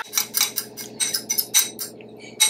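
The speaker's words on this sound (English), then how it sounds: "now we're going to whisk this together" Lemon juice, lemon zest and grapeseed oil being whisked together in a small bowl, a quick, steady run of close clinking strokes that pauses briefly near the end before one more stroke.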